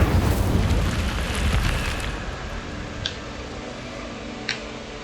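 The Incendio fire spell in Hogwarts Legacy goes off as a loud whooshing burst of flame that fades over about two seconds, followed by two short, sharp ticks.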